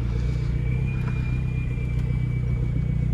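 An old Ford F150 pickup idling steadily from inside the cab before a drive, a loud, even low rumble with a faint whine, no voices.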